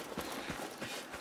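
A horse's hooves clip-clop in the Assassin's Creed Mirage video game, several quick, evenly spaced thuds in a brisk rhythm over a steady noisy background.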